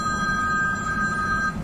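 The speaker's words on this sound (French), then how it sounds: "C'est quoi ce téléphone? C'est les sonneries d'avant," An old-style telephone bell rings continuously, a steady electric trill with a bright metallic tone sustained throughout at moderate loudness, with no talk over it.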